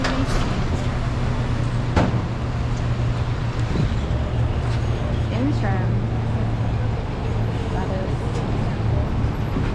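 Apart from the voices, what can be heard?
riding a Philadelphia number 9 city bus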